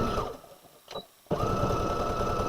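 A sewing machine stitches at close range in a steady rapid whir, pauses briefly for about half a second, then starts again at full speed.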